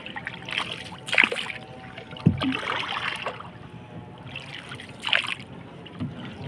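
A paddle dips and pulls through water beside a small boat out fishing. Several uneven splashing strokes sound close by, with trickling drips between them and no talk.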